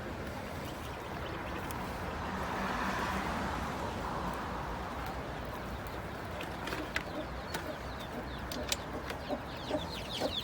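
Turkey hens and chicks cluck and peep inside a coop, a low continuous murmur of soft calls with sharper chick peeps growing more frequent toward the end.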